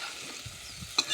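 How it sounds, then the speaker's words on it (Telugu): Okra (ladies finger) with salt and chili powder is stirred in a frying pan, giving a soft continuous sizzle with light scraping strokes and a sharper clink near the end, close and without talk. "ఇందులో ఈ బెండకాయలు కలిసేటట్టుగా మంచిగా కలుపుకోవాలి"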